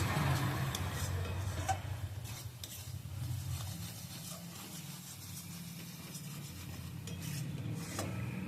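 A sweet pera mixture with jaggery and sugar is stirred constantly in a pan, giving a steady scraping and rubbing of the spoon against the metal with a faint sizzle, close and continuous, with no talking.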